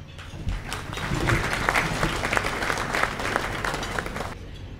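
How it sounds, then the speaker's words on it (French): An audience at a United Nations ceremony in Benin applauds to welcome a speaker, a steady burst of clapping lasting about four seconds before stopping. "Sous vos applaudissements, s'il vous plaît."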